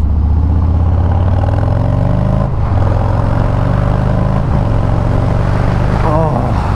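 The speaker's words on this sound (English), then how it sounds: "Feels good to rip on the throttle for a little." A motorcycle engine drones loud and close with a heavy low rumble, its pitch sweeping up and down as the throttle opens, all layered over rushing wind noise.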